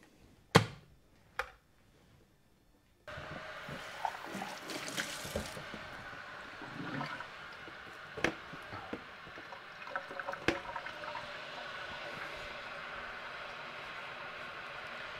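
Cups being washed in a sink, a couple of sharp ceramic clinks, then the tap turned on and water running steadily with occasional splashes and knocks of crockery.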